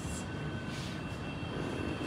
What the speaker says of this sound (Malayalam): ട്രെയിൻ എത്തി.